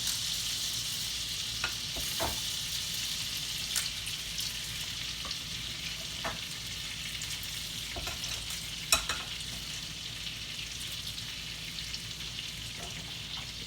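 Corn hoe cakes fry in a pan with a steady, close sizzle, while a few sharp clicks and scrapes from a utensil break in now and then.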